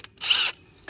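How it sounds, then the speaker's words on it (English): A 3/8 inch impact wrench loosens a bolt on a Spartan SRT-XD mower in one short, loud, close burst lasting under half a second. "I'm using a 3/8 inch impact wrench."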